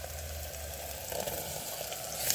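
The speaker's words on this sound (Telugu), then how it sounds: "కారం వేసినాక మంచిగా వేగినాక ఇప్పుడు టమాటా పచ్చిమిరపకాయ వేయాలి ఫ్రెండ్స్" Tomatoes and green chillies frying with chilli powder in a pan, a soft, steady sizzle with faint bubbling over a low hum, quiet and continuous with no talking.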